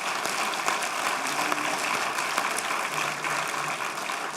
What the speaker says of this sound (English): And I want to give them a round of applause.